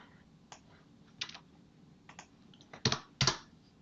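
Computer keyboard typing while entering a field in Power BI: a handful of sparse, quiet key clicks, ending with two louder, sharper keystrokes close to the microphone, with no talk.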